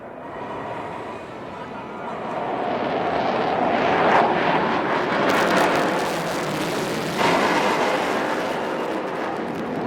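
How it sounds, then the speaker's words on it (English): A heavy fighter jet performs a tail slide at an air show in Chennai, its loud, continuous engine roar swelling and receding over about ten seconds while a voice talks over it. "the pilot will now execute a remarkable maneuver called the tail slide"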